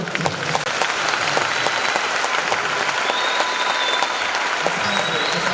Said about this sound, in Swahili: Hebu piga makofi.